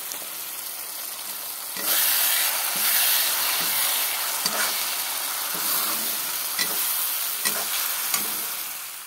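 Garlic, green chilli and chilli powder fry together in a pan. A loud, constant sizzle runs under repeated scraping strokes of a spoon or spatula stirring the spices. There is no talk.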